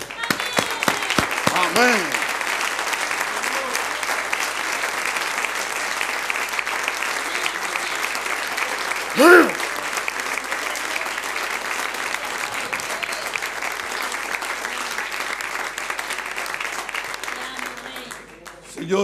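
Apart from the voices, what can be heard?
applause in a church congregation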